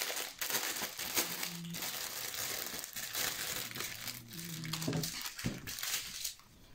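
A plastic packet of princess stickers being torn open and handled, with steady close crinkling and crackling throughout and a few brief tonal clicks.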